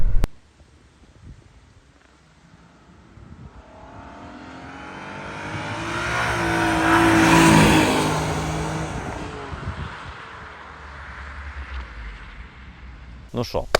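A Jaguar S-Type engine revs through its twin exhaust, swelling to a loud roar around the middle, then easing back to a lower rumble, with a sharp sound at the start and end.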